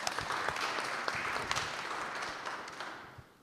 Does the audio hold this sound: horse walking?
no